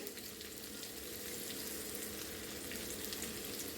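Onions fry in a pan for a dish served with idli, giving a dense, steady sizzle that runs unbroken throughout, close and fairly quiet, with no voices.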